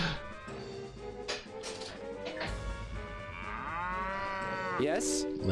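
Several cattle in the Jagged Alliance 2 video game low and moo in long drawn-out calls that overlap one another, moderately loud, with one rising bellow near the end and no speech.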